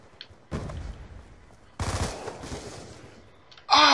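Gunfire from a video game comes in three separate bursts: a short volley, a longer rattling spray, then a loud blast at the end, with near silence between them.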